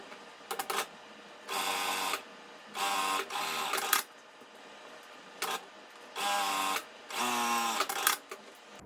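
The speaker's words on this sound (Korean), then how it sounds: "옆쪽을 1cm로 쭉 박음질 하도록 하겠습니다" A sewing machine stitching a 1 cm side seam along fabric for a drawstring bag handle, running in short close bursts of rapid whirring, about six runs separated by brief pauses, with no talking.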